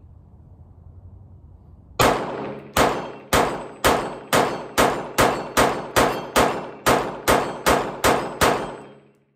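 A Staccato C2 pistol with a Genghis compensator firing at steel targets 25 yards away: a timer beep, then about fourteen loud, evenly spaced shots, each paired with a ringing metallic clang, over roughly seven seconds.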